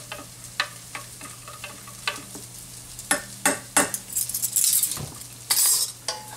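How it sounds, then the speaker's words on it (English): A spoon stirs and scrapes a beef broth mixture for boeuf bourguignonne in a pan, with a series of irregular clinks and scrapes over a soft sizzle, growing busier and louder toward the end. "Mix that up a little bit"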